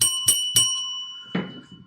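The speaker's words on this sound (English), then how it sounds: "We're gonna have to hit the little dingy dingy dingy to bring them out." A small ring-for-beer desk bell is struck three times in quick succession, each a bright ringing ding with a sustained tone, followed by a brief clunk as it is handled.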